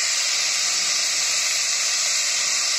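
Green chili paste hitting hot oil with lightly fried garlic in a pan, a loud, steady sizzling hiss that holds without a break, close up and with no talking.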